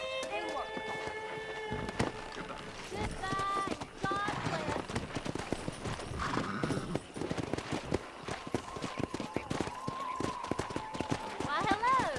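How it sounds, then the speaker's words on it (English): Horses gallop with rapid, rhythmic hoofbeats in Red Dead Redemption, running steadily and close throughout, while voices talk over the action. "Let's see if we can't wrangle some horses."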